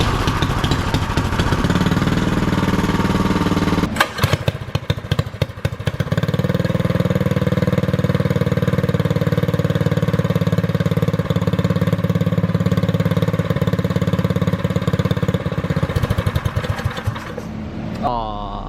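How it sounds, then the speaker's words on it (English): Small engine on a Medusa go-kart fitted with a new air filter and cold air intake catches after pull-starts and settles into a loud, steady high idle that runs close and continuous before cutting out near the end. "It is idling high because of the new air filter and stuff like that."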